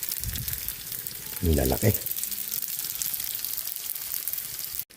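Lumpiang toge, bean sprout spring rolls, fry in hot oil with a loud, steady sizzle throughout, while a voice briefly speaks over it partway through.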